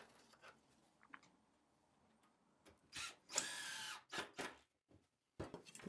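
A power drill drives a screw into a tapered wooden table leg, giving several short, close whirring bursts between quiet pauses, the longest near the middle.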